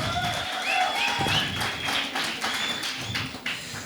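Applause from a church youth camp audience at a mental health panel discussion: a steady patter of many hands clapping at moderate distance, fairly loud and continuous, with some whistles or cheers above it.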